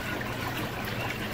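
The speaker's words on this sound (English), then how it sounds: "Set it to the side, where you can hear it dripping" Water trickles steadily from a saltwater aquarium filter sock set aside after collecting detritus, a soft continuous splashing drip that stays even and fairly quiet throughout.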